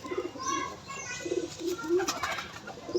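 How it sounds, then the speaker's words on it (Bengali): Pigeons cooing close by in a loft, soft repeated low coos overlapping, with faint background noise and no voices. "10 নম্বর কবুতরটা আসলে আমার 10-41 দুটোটাই খুব ভালো মানের কবুতর।"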